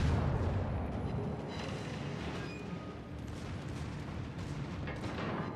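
Heavy guns fire aboard a World of Warships battleship, the Alaska: a dense, rumbling barrage of booms with rolling low thunder and scattered sharper reports, steady and loud throughout, with no voices.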